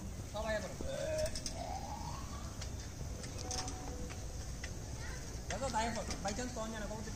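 Soft pigeon coos and scattered bird calls at a distance, with someone talking intermittently over a steady low background hum.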